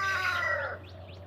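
A rooster crows once, close and fairly loud, in a drawn-out harmonic call that fades in its last part, with no talking.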